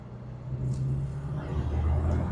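Original VW GT Beetle engine at steady cruise, a continuous low droning rumble with a faint rise in pitch toward the end as the car keeps pace with traffic.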